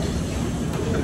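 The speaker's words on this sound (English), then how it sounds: "This train is about to depart to the airside terminal and concourse A, B, C, and D." An airport terminal shuttle train departing at Pittsburgh International Airport, a brief low rumbling roll of the rail car with steady mechanical noise and no voices.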